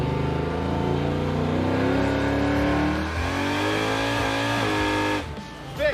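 A Chevrolet Impala drag car launches at wide open throttle, a loud close engine roar climbing steadily in pitch, easing briefly around a shift before climbing again and cutting off at the end.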